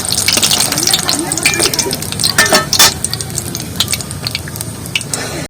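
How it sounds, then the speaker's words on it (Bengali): Banana flower chops sizzle as they fry in hot oil three at a time, a steady close crackle with brief gushes of bubbling, and a voice speaks at times over the frying. "তিনটে করে ভেজে নিচ্ছি"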